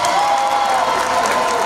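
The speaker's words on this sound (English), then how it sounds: "give them a big round of applause" Middle school graduation students applaud their teachers, a dense, loud wash of clapping mixed with cheers and whoops from a large crowd, steady throughout.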